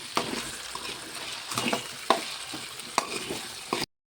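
Potato and pea masala curry being stirred in a pan, with a spoon scraping and knocking against the metal in several separate strokes over a soft, steady sizzle, close and clear with no talking.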